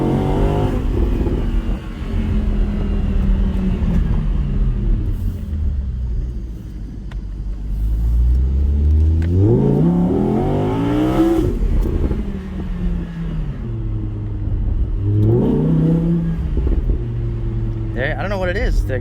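A 2017 Audi R8 Spyder engine and exhaust rumble and swell through repeated accelerations, rising and falling in pitch with gear changes, heard from inside the car under a voice.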